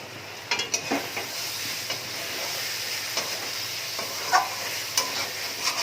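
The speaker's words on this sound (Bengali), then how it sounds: "এবার ভালো করে ডিমের সাথে দেখো সবজিগুলো দিয়ে ভালো করে ভাজা ভাজা করে নিচ্ছি" Two eggs fry with vegetables in a pan, a steady close sizzle broken by intermittent scrapes and taps of a stirring spatula.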